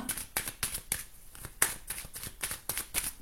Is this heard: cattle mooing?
no